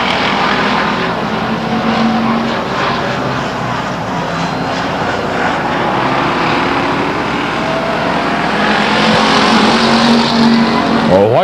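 A race car engine roars down the backstretch at Stockton 99 Speedway during a September 2000 race, a loud, continuous howl that holds for the whole stretch and swells slightly toward the end.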